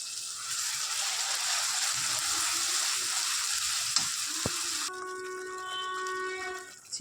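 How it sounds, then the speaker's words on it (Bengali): Spice paste for a chicken curry frying in a pan, a steady loud sizzle with stirring throughout, a sharp knock near the middle and a tonal whistle-like hum joining in the last two seconds. "মশলাটা দিয়ে দিয়েছি, এবার মশলাটা কষাবো।"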